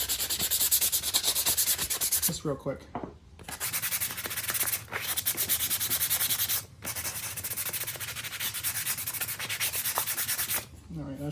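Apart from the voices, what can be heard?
light sanding of wood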